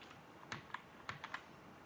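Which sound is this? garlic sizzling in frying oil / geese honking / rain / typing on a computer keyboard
typing on a computer keyboard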